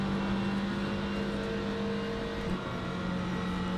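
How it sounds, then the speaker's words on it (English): A turbocharged race car engine drones steadily at high revs with a whirring turbo during a Bahrain endurance race in rFactor 2, loud and continuous with no talk. "engine sounds pretty nice, especially that turbo"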